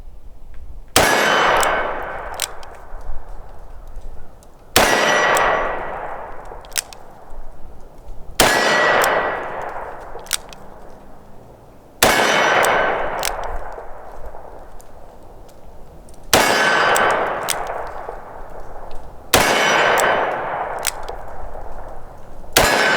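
A Smith & Wesson 686 Plus revolver fires at targets, six loud, sharp single shots spaced a few seconds apart, each with a ringing decay, and no voices.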